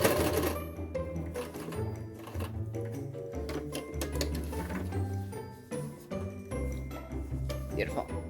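A sewing machine backstitches a bat wrap with bursts of rapid mechanical stitching that stop and start, close and clear. Brief pauses fall between the runs.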